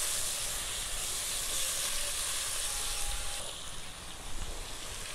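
Spiced mourola fish frying in hot oil in a kadai, with a steady loud sizzle and hiss throughout, easing slightly toward the end as the fish are stirred in.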